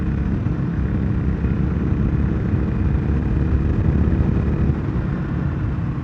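A Harley-Davidson Sportster motorcycle rides through corners, its engine a steady, loud rumble mixed with wind rush, holding an even level with no breaks for the whole stretch.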